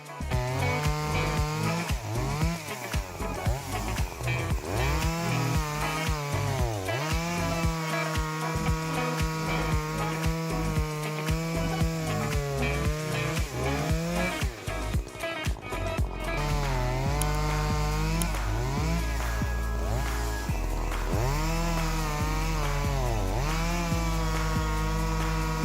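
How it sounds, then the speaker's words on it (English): Logosol F2 Farmer chainsaw cutting through logs, its engine revving and bogging in repeated cuts with rising and falling pitch, loud and close, with no talking. "the Logasol F2 Farmer chainsaw because it is an ultra-portable saw that can easily handle logs up to 60 cm in diameter"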